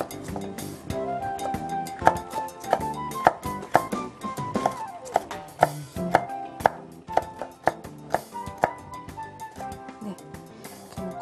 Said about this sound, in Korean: 이렇게 넣고 다 썰으면 돼요